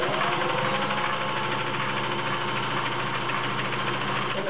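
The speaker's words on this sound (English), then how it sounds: "As you can hear, very smooth, very, very quiet running." A Singer 500A Slant-O-Matic Rocketeer sewing machine runs steadily on a zigzag stitch, a smooth, even mechanical whir with a fine rapid rhythmic pulse, continuous and close, with a thread spool rattling faintly along.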